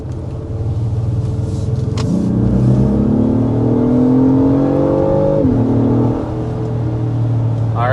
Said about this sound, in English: we toggled into Sport Plus mode to show off a little bit of that performance